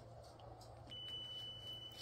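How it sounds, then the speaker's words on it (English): A faint, steady high electronic beep from a tumbler heat press sounds continuously for a couple of seconds over a quiet room hum. "open that up and the beeping stops"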